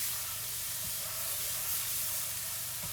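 Pork tenderloin sizzles in a hot pan as it browns, a steady, close hiss running evenly throughout with faint low knocks of the meat being moved.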